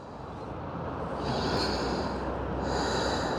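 Slow, deep breaths during a yoga stretch for low back pain, a long airy inhale swelling steadily and staying close and fairly loud, with no talking.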